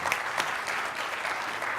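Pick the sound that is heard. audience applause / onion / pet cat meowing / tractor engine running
audience applause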